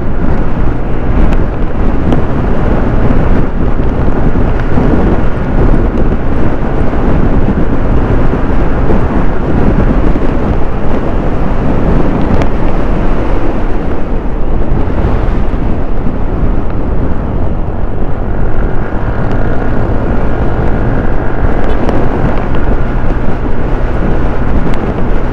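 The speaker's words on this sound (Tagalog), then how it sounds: "Malakas ang hangin. Try natin po pabilis ang takbo." Strong wind buffets the microphone while riding a 2023 Yamaha Aerox 155 scooter at speed, a loud, constant roaring rush with a droning engine tone beneath that barely changes over the whole stretch.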